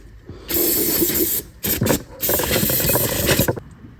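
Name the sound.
brake cleaner spray can spraying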